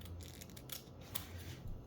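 Scissors snip through transfer tape while a Father's Day keychain is being made, giving a couple of quiet, close, crisp cuts against a soft low hum, with no talking.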